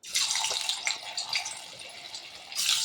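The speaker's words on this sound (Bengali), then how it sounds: "আর এখানে আমি কড়াতে তেল দিয়ে দিয়েছি, এখন ময়দাটা ভেজে নিচ্ছি।" Torn pieces of flour dough fry in hot oil in a wok, giving a steady, close bubbling sizzle with broadband hiss that surges at the start and again near the end, with no talking.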